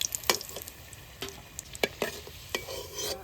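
Chop snacks fry crisp in hot oil in a pan, with a close sizzle broken by sharp clicks and scrapes as a utensil stirs and lifts the pieces.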